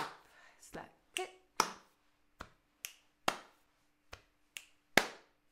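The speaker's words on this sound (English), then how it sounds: "So you go slap, clip, clap, slap, clip." Body percussion for learning a song: a sparse, rhythmic sequence of slaps, finger clicks and claps, about a dozen crisp close hits separated by short pauses in a quiet room.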